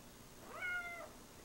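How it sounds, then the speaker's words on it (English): A single short cat meow sounds once in a quiet indoor room, faint and clear with nothing else around it. "The cat!"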